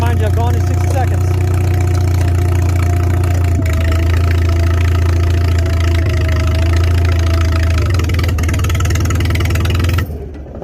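A 1955 Farmall 300 RC tractor engine, revived after sitting 14 years, runs steadily at a loud, close, low rumbling idle with rough knocking pulses, then drops off abruptly near the end.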